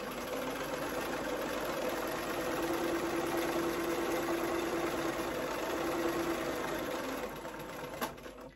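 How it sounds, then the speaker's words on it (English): Sewing machine stitching fabric bunting triangles onto twill tape: a close, continuous rapid mechanical whirr and needle chatter running steadily for several seconds before stopping, with no talking. "When I get to the end of that first triangle, I like to do about 10 stitches and then insert my next triangle."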